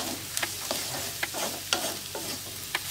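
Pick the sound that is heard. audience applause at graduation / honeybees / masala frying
masala frying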